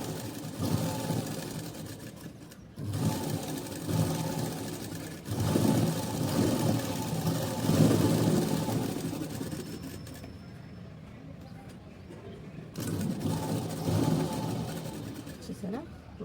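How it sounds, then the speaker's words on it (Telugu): A sewing machine stitching a cotton blouse runs in several bursts, a close mechanical whirr with regular beating that stops and starts again, while someone talks over it. "మిషన్ సౌండ్ బట్టే మనకి మిషన్ కుట్టు పడుతుందో లేదు తెలిసిపోద్ది."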